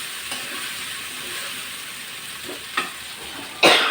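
Koi fish from a wetland sauté in bubbling oil, giving a steady close sizzle with a couple of sharper scraping stirs near the end.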